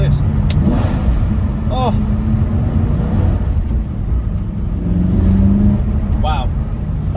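A BMW E92 M3 engine blips its throttle on a fourth-to-third downshift, rising in a quick rev over a steady, loud drone of road and engine noise while someone talks over it.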